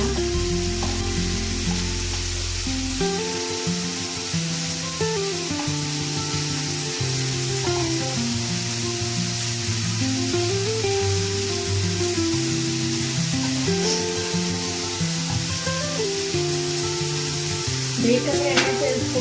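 Ragi roti cooks on a hot pan (tava), giving a continuous soft sizzle and hiss with faint scraping and shifting sounds through nearly twenty seconds, close and steady, with occasional low voices in the background.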